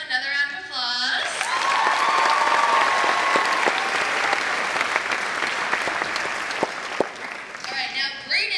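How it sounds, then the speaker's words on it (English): At a high school graduation ceremony, a crowd breaks into strong applause that swells and holds for several seconds, with a student speaking into a microphone just before and again as it fades. "Another round of applause."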